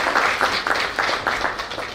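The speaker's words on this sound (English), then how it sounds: "Please give them a big round of applause" Audience clapping at a one-day awareness campaign on antimicrobial resistance, about two seconds of steady applause with distinct pulses of claps, close and fairly loud.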